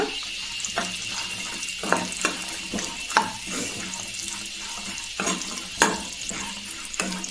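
Chopped coconut stirred in a frying pan for a Kannada kutta avalakki snack, with steady sizzling and repeated sharp scrapes and knocks of a spoon against the pan, close and fairly loud.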